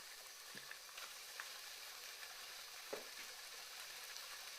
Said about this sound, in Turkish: 3 baş sarımsağı ilave ediyorum ve bunları da birlikte kavuruyorum.